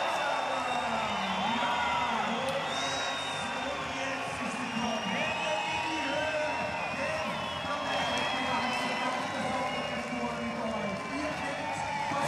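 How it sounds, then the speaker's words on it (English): Spectators at a Red Bull Cliff Diving World Series event in Sisikon, Switzerland cheer and whoop for a local diver, a steady crowd roar with whistles continuing under commentary. "Listen to the crowd, the local."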